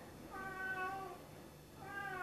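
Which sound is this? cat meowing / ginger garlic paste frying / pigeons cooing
cat meowing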